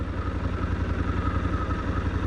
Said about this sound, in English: The engine is, the radiator fan, the ventilator fan has kicked in